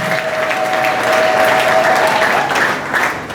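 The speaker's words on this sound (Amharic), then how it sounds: "እግዚአብሔር ክብር አጨብጭቡለት።" A large crowd applauding steadily and loudly, a dense wash of clapping that swells slightly and fades toward the end.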